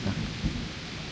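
Rumbling thunder mixed with steady rain in a medieval-themed video game, a low roll swelling briefly near the middle over a constant hiss of falling rain.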